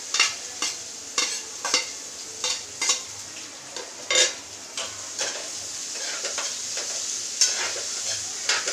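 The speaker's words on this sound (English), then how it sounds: "Now we are putting the onions." Onions sautéing in a pan for scrambled eggs, a soft continuous sizzle broken by repeated rhythmic scrapes and taps of a spatula against the pan, close and moderately loud.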